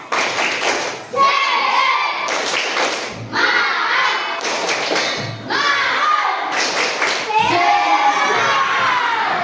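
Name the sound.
schoolchildren doing a rhythmic spirit clap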